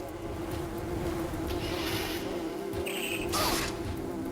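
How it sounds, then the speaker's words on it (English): War wasps from the game Metroid Prime Hunters hum in a thin, continuous insect-like drone with a few brighter whooshing accents, steady and moderately loud under game ambience. "These are war wasps. Totally copy-pasted from Metroid Prime."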